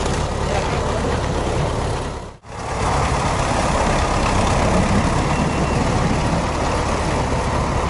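A Soviet MTZ tractor's engine, identified as an A-41, idles with a loud, steady low rumble that cuts out for a brief moment before resuming just as strongly.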